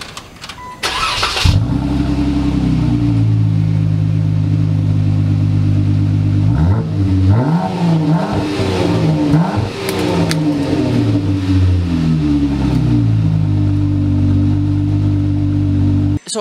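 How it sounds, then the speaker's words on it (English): A 2018 Jeep Wrangler Unlimited V6 engine with an aftermarket exhaust starts with a quick crank, settles into a throaty idle, then revs up and down several times through a deep, rumbling exhaust. "I knew I was driving the V6 because of the sound"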